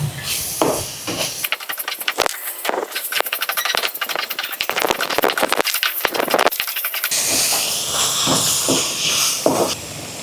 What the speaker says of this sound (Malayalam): ഇനി നന്നായിട്ടൊന്ന് വഴറ്റി കൊടുക്കാം.